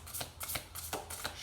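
A deck of tarot cards riffle shuffled close by, heard as quick, soft fluttering bursts of card edges repeating in a loose rhythm, quiet and with no talking.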